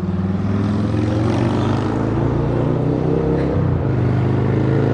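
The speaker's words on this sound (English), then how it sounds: "Goddamn motorcycle in the background." A motorcycle engine running in the background at a bike event, a loud, steady, throaty drone that holds throughout with a brief dip in pitch partway through.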